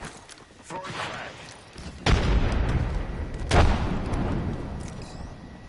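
Frag grenade explosions in the Apex Legends video game, with two heavy booms a second or so apart amid gunfire and game noise while players talk.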